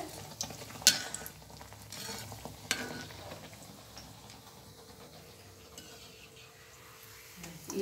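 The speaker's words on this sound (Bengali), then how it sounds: "তেলটা গরম হয়ে গেছে, এখন আমি পিঠাটা দিয়ে দিচ্ছি তেলের ভিতরে" Pitha rice cakes fry in hot oil, giving a low, steady bubbling sizzle close by, with a few sharp utensil clicks near the start and otherwise quiet crackle throughout.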